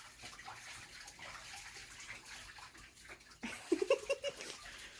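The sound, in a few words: water sprayer running in a bathtub with ducks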